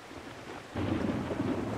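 Thunder rumbles in the Days Gone video game, a low rolling swell that rises suddenly and holds over a hiss like rain, fairly quiet and heard alone.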